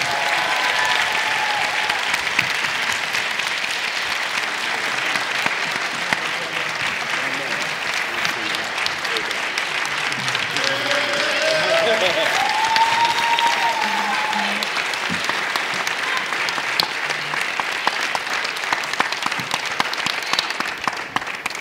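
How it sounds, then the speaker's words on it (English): Sustained audience applause at an evening session welcoming a speaker, a dense wash of clapping that continues steadily throughout, with some crowd noise and a faint voice underneath. "Please make some noise for the Honorable Reverend Jesse Jackson"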